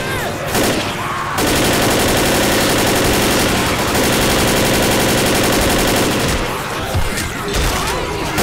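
Sustained automatic gunfire from a machine gun in the zombie shooter Left 4 Dead, loud and continuous for several seconds with brief pauses and scattered shots at the start and end.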